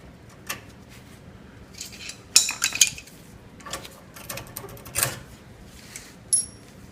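Small metal brake pin keeper from a Toyota Tundra front brake job pinging and clattering across a shop floor, a string of sharp light metallic clinks and ticks at close to middle distance.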